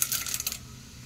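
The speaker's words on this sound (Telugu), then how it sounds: "పోపు గింజలు అయితే వేస్తున్నాను." Tempering seeds hit two spoons of hot oil in a pan, giving a brief burst of crackling pops and spatter up close that fades quickly to a faint hiss.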